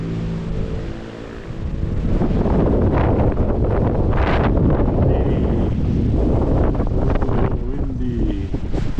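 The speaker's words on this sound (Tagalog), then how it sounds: "Windy." Heavy wind buffeting a microphone outdoors, a loud, continuous rumbling roar with gusty surges throughout, with faint voices briefly audible underneath.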